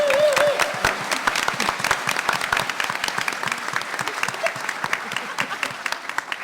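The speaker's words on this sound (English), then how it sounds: "one more round of applause for Matt Martin." A convention panel audience at New York Comic Con applauds steadily for several seconds, dense rapid clapping filling the hall at moderate loudness, with a brief voice at the start.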